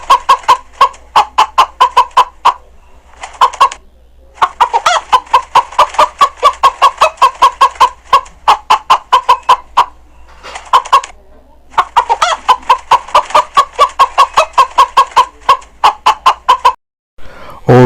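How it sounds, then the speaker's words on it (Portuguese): A chicken clucks in rapid repeated bursts of sharp, close calls, broken by short pauses, with a brief louder squawk at the end. "Galinha"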